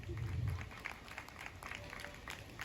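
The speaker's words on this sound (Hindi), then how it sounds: "जोरदार तालियां पहले हमारे लिए बजाइए आप लोग" Faint, distant applause rises from the audience at a Lucknow kavi sammelan of women poets, a soft, steady wash of many clapping hands with a low thump near the start.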